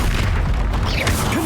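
An Incendio fire spell is cast in Hogwarts Legacy on PC, producing a loud, dense booming whoosh of flame that fills the whole moment with steady roaring noise.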